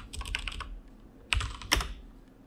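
Code being typed on a computer keyboard: bursts of quick, close key clicks, a flurry at the start, a pause, then a few sharper, heavier keystrokes, with no talking.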